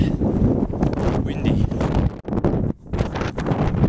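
Gusty wind batters the microphone on the exposed, cold Tongariro Crossing mountain trail, a loud steady rush with a short lull near the end.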